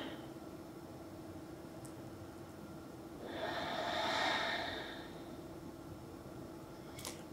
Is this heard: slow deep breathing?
yes